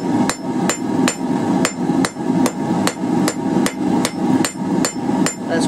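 A hammer forges a taper on a steel fire poker at an anvil, ringing out about fourteen sharp metallic strikes in a fast, steady rhythm, loud and close with no talking.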